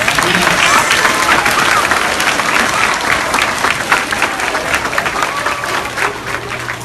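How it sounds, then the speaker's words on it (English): A seated audience at a Veterans Day program claps steadily throughout, dense crowd applause with a voice briefly audible over it. "Let's give them a round of applause."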